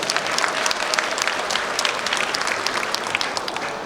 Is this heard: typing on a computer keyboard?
no